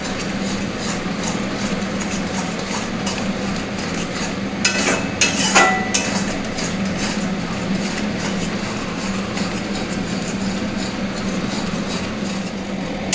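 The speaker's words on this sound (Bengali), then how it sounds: "এবার আমার শুধু নাড়াবো, এটাকে বারবার বারবার করে নেড়ে দিতে হবে," A pan of katla fish bharta is stirred over heat, giving a continuous close scraping and low sizzle, with a brief burst of sharper metallic clatter near the middle; no one speaks.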